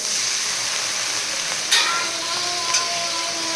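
Food sizzles steadily in a frying pan, a constant close hiss with a few brief spatters and scrapes, no talking over it.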